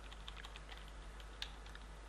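Computer keyboard arrow keys pressed repeatedly while nudging a clipping box across a sprite, a string of faint, close clicks with one sharper tap, set against a steady low electrical hum.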